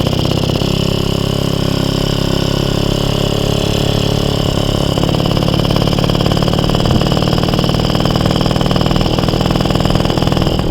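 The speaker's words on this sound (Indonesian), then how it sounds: "Ini kalau jalan santai itu knalpotnya kedengeran polo ya" A motorcycle's exhaust rumbles steadily and up close while the bike is ridden slowly at an easy pace, a continuous engine drone with no talking.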